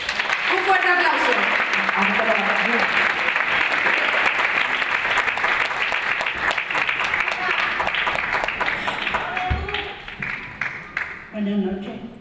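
Audience at a poetry and arts festival applauds a poet being introduced, a dense, steady wall of clapping that carries loudly for most of the span before thinning out, with brief voices near the end.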